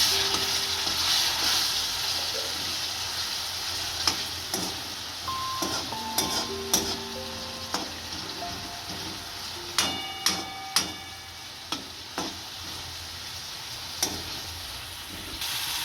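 Chopped tomatoes sizzling in a pan for soya vadi curry, a constant frying hiss broken by scattered spoon clicks and scraping taps against the pan, no voices.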